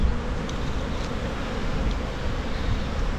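Honeybees, drones and workers together, buzz at a hive in a dense, continuous hum, close and steady with no breaks.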